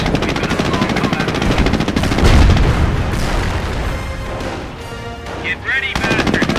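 Gunfire and booms from a Company of Heroes Opposing Fronts battle at Caen: dense, continuous shooting with heavy thumps midway, loud and busy throughout, with voice chatter mixed into the combat.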